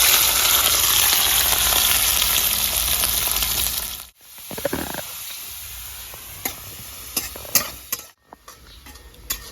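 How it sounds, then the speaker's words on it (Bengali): Around 150 grams of garlic frying in mustard oil for rosuner bhorta: a loud, dense hiss of sizzling at first that cuts out abruptly, then a quieter simmer with occasional clinks and stirs nearby, no talking. "এবার রসুনটা ভেজে নেবো।"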